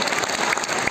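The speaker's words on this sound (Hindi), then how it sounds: "इनके लिए भी तालियां बजाओ" A brief burst of applause at a college event, dense and steady clapping from many hands.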